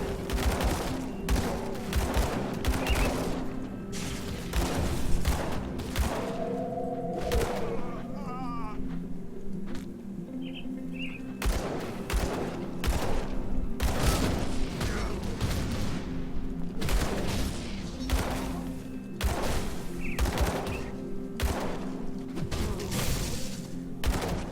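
Explosions and rapid gunfire from the action game Grim Dawn pile up in dense, continuous bursts and booms, loud and busy throughout with a few brief lulls.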